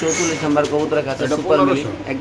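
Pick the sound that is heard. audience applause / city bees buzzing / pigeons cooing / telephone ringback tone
pigeons cooing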